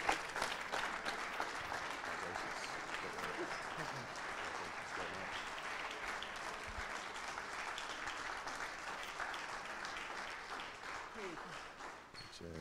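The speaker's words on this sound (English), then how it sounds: "As you can tell by the reception from the crowd here, standing ovation, they very much enjoyed the match." A crowd's standing ovation after the 2013 PST World Championship squash final: dense, sustained clapping that carries on evenly for over twelve seconds before tapering slightly.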